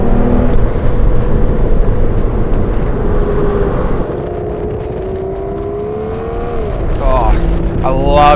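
A car engine note while driving on a road at about 50, a loud, smooth and steady drone with a slight rise near the end; a voice talks briefly over it.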